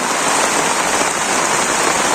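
Steady, heavy rain pours down continuously in a Bangladeshi village, a dense hiss of drops striking surfaces with no pauses or voices.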